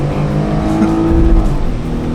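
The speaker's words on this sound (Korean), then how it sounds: "고속화도로 합류하면서 가속 페달 끝까지 밟아봤거든? 확실히 가솔린 엔진이네." A loud, close gasoline engine roars steadily as a Chevrolet Colorado pickup accelerates hard at full throttle merging onto an expressway, with no talking.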